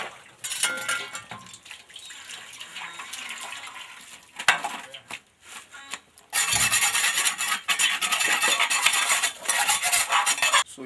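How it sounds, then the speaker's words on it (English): Block moulding tools are scrubbed and washed, with rough rasping and rubbing, metallic scrapes and water noise, a brief clatter midway, then a louder, continuous burst of scrubbing nearby; no talk. "So we are going to wash all our tools."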